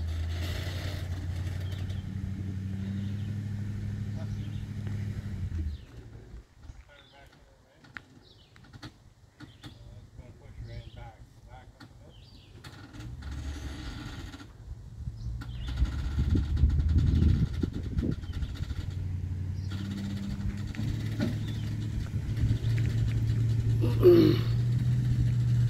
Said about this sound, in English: that truck is working hard for the money today